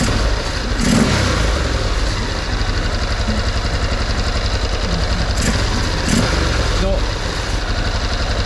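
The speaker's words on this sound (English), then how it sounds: "That's a fairly consistent idle. And they're reading bob on. There's no hesitation on the throttle." An engine after general maintenance holds a steady, even idle with a few quick throttle blips rising and falling, loud and close, while a person talks over it.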